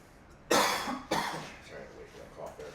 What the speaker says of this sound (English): I wait for that cough there.